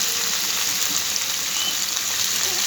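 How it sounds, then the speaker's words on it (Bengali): Dried shrimp (chingri shutki) frying in a pan for a taro stolon curry, giving a dense, steady, close hiss of sizzling oil throughout with no voices. "শুটকিটাকে আমি ভালো করে কিছুক্ষণ ভেজে নিব।"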